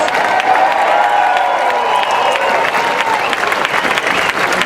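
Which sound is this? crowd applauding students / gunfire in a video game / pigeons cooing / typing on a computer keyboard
crowd applauding students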